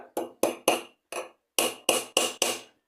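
A hammer taps a part into place on a new sewing machine, eight sharp metallic knocks in two quick bursts separated by a brief pause, close and clear with silence between strikes.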